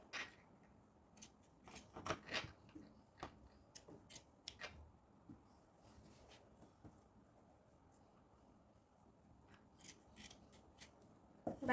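Scissors trimming light-coloured fabric at a garment neckline, a series of quiet crisp snips in irregular clusters over a hushed room background.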